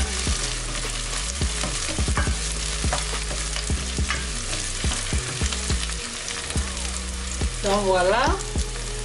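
Onions cook in a pan, a steady close sizzle broken by repeated stirring scrapes and clicks, with a brief spoken phrase near the end.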